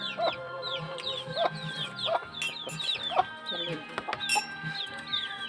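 Several chickens cluck and squawk close by in a busy, overlapping chorus, with short calls repeating irregularly throughout.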